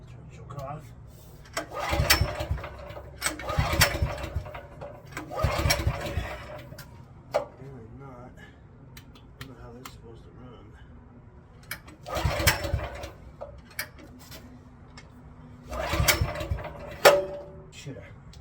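An old generator that sat unused for ten years gets repeated pull-start attempts: about half a dozen short mechanical cranking bursts at uneven intervals, close by, with people talking in between.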